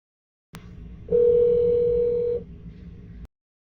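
Steady electronic intercom call tone from a Grandstream UCM6510 IP PBX, a single sustained pure tone lasting a little over a second, clear and moderately loud over a low hum.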